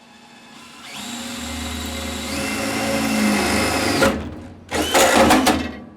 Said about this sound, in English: time to lubricate and drill.